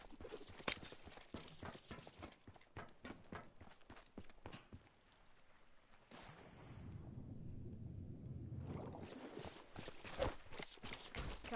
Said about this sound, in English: You can hear my footsteps